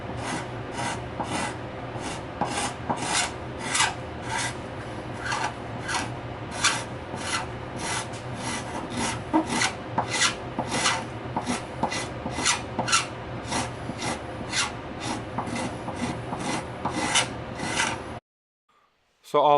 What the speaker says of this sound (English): Once you get your scraper sharp, you can go pretty quickly. You just move the body around.